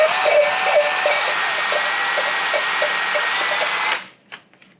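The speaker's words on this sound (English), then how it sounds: "And I get my drill. I just turn it and pull at the same time." A power drill whirs steadily and close by for about four seconds, turning a hose to pull a valve seal during a Yamaha motorcycle top-end rebuild, then stops abruptly, leaving a few faint clicks.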